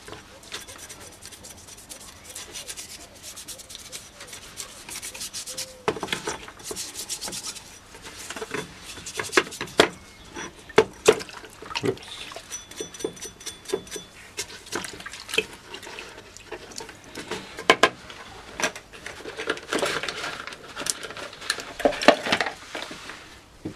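Greasy parts of an HMV 130 wind-up gramophone are scrubbed and rubbed in a bucket of petrol, giving close, irregular scraping, rubbing and liquid sloshing sounds with occasional clinks, no talking.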